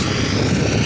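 A tractor engine drones steadily as it approaches, a low, continuous rumble that stays fairly loud and even across a brief moment, with no voices.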